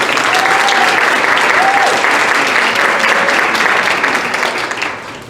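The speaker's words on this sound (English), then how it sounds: "let's give them a round of applause, please." Audience applause at a school event, dense, loud clapping that holds steady and then fades slightly toward the end, with brief faint voices over it early on.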